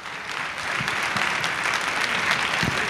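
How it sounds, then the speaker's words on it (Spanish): A live audience at a meet-the-creators event breaks into loud, dense applause to welcome a guest speaker, the clapping swelling slightly and holding steady for three seconds with no talk. "un fuerte aplauso a Pablo"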